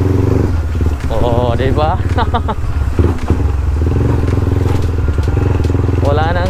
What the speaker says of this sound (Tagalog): May quick shifter yung MC ko ngayon.